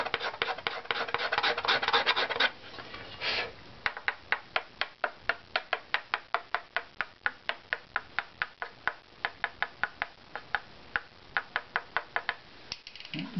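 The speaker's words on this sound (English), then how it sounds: "I'm supporting on the area I'm scraping." Hand scraper working a metal surface plate, the blade drawn in a steady run of sharp rasping strokes, close and loud, after a longer continuous scrape at the start.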